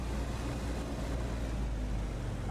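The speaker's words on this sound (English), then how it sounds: "I'm going to apply more power to the left engine than the right one." Engines of a Mosquito aircraft powering up in the flight simulator DCS, a loud, steady, broad propeller-engine roar at close range, with no talking.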